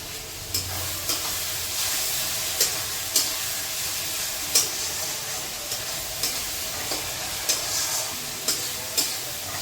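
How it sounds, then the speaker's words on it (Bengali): Spices stir-fried in oil crackle with a continuous close sizzle, punctuated by regular scraping taps of a spatula against the pan roughly every second. "মশলাগুলো কষিয়ে নেব তেল ছাড়া না পর্যন্ত।"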